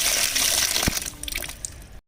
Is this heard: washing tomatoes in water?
yes